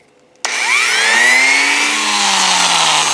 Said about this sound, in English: If you got a wire wheel on a Dremel, you could hit it with that